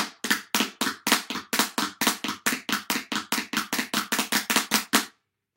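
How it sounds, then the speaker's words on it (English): Quick alternating hand taps on a drum playing the flam rudiment, each stroke doubled with a grace note, about twenty crisp hits in an even rhythm, then silence. "That's called the flam."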